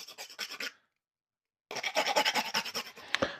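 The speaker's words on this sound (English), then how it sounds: "Take a rasp, roughen up the edges of the Jopo." Hand rasp roughening the edges of orange Jopo bowling ball grip inserts: dry rhythmic scraping strokes in two bursts separated by a pause, close and fairly loud with no talking.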